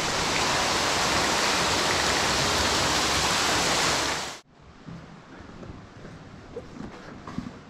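Water rushes loud and steady from a flooded level of an underground mine that once supplied the drill rigs, then cuts off abruptly to a quieter, echoing background with faint scattered sounds.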